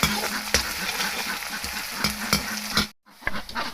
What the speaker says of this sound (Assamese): আদা ৰচুন পেষ্ট দিছোঁ।